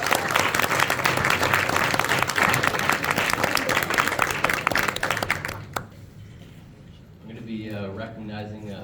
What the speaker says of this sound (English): So just a round of applause for our freshmen.